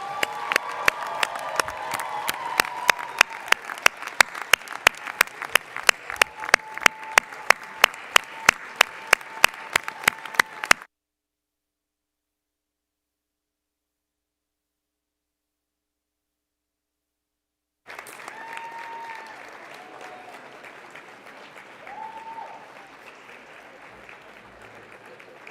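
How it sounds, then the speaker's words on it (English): An audience at a medical school MD graduate recognition ceremony breaks into sustained applause with rhythmic clapping, dense and steady, then after a silent gap a softer continued round of clapping with a voice briefly heard. "recognize these people, your people, who have supported your journey with a hearty and heartfelt round of applause"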